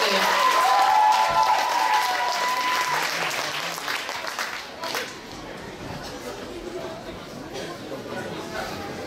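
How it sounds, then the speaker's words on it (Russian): Audience applauding as the first troupe comes onstage at a children's camp concert on an open day, loud steady clapping with crowd chatter and a brief high whistle-like tone early, fading slightly but continuing throughout. "Встречаем первый отряд на сцене. Бурные аплодисменты!"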